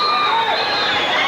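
A boxing crowd at the Palladium in Hollywood, California, on its feet and cheering, a loud, dense, continuous roar of many voices filling the hall without a break.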